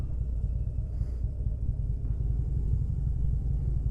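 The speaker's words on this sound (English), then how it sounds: "I hear some motorcycles." Motorcycles pass on a California road, heard as a deep continuous rumble with faint revving, mixed with the low drone of the riding vehicle's own engine and wind.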